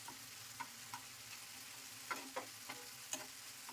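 Chopped onion and tomato fry gently in a pan for a Bengali hing parshe fish dish, giving a faint, steady sizzle with a few soft scrapes and clicks of stirring.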